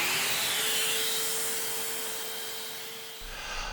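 A vacuum cleaner runs in a model ship workshop, giving a steady, broad rushing hiss with a faint constant hum, holding level and then gradually tapering off near the end, with no voices.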